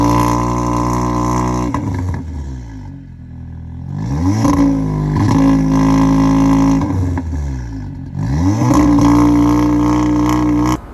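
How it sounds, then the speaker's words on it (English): An Audi S3 exhaust with downpipe and resonator delete revs loudly in repeated bursts, rising and falling with deep droning harmonics, dropping to idle between pulls and closing with a strong rev, close and alone. "I'll put an exhaust clip in now so you guys can hear that."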